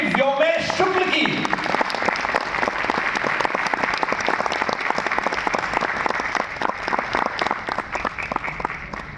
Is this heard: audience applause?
yes